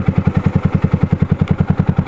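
Motorbike engine thumping in a steady rapid pulse while riding slowly over rough ground on the way to Saikha waterfall, loud and close throughout.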